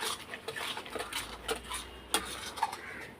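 Light utensil scrapes and clinks in a pan as a fish curry masala is sautéed with Kashmiri chilli powder and turmeric, a steady quiet stirring with a few sharper taps, no talk.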